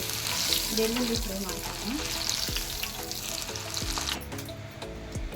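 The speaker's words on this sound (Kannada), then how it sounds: "ಇವಾಗ ಬೆಳ್ಳುಳ್ಳಿ ಫ್ರೈ ಮಾಡ್ಕೊಳ್ಳೋಣ." Garlic frying in a pan for a poha (flattened rice) mixture snack, a steady loud sizzle with stirring scrapes and taps of a spoon against the pan, no talk.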